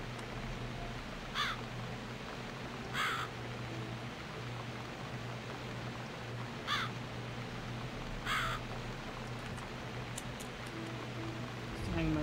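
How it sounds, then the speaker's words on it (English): A crow caws near a city flat's balcony in four separate harsh bursts, then a quicker cluster of short calls near the end, heard over a steady low hum and background noise. "It's this damn bird again."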